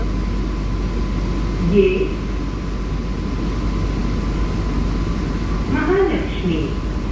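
An AC slow local train runs at Mahalaxmi in Mumbai, its interior filled with a constant low rumble and air-conditioning hum, while brief electronic tones sound and voices speak over it.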